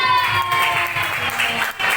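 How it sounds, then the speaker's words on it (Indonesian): A classroom of children claps for a classmate called up to the front, a steady burst of applause with a brief dip near the end and some voices mixed in. "Beri tepuk tangan semangat untuk Aska."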